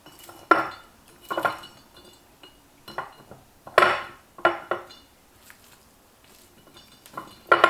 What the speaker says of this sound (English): take a 32-ounce mason jar and we're going to stuff the onions in here